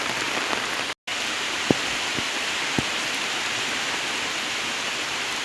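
Steady rain falls over a garden, a dense, even hiss with a few sharper drips and taps standing out, broken by one brief cut to silence.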